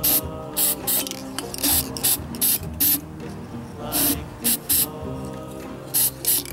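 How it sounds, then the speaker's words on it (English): Repeated short hissing bursts of an aerosol spray paint can sprayed into a glass container, each a second or less, separated by pauses over a low background hum. "you're gonna spray a little bit of the spray paint"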